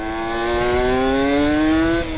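Revving of a Kawasaki Ninja two-stroke motorcycle engine with a modified carburetor needle setting, a loud close buzzing tone that climbs smoothly and holds high before easing off slightly.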